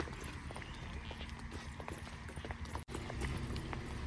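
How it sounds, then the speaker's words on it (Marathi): Horse hooves clip-clop at a steady walking rhythm amid outdoor background noise at Matheran hill station, moderately close. "घोडे लावले बघ कसे"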